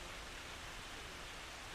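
Steady rain falls through a cold, black night, a dense continuous hiss with no break or variation and no voices over it.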